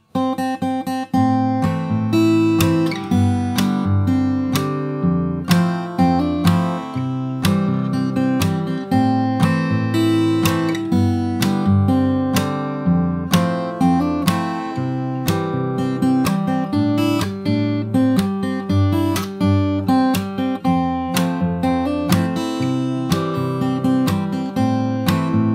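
Fingerstyle acoustic guitar plays the chorus of a song, with plucked bass notes under a melody line in a steady, dense rhythm, close and loud throughout with no talking.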